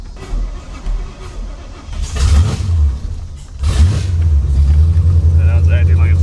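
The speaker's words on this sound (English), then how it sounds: "Now it's acting like it's flooding out again." An abandoned Pontiac, off the road for 48 years, runs with its engine surging and stumbling as if flooding out, rumbling revs rising and dipping, with people talking over it.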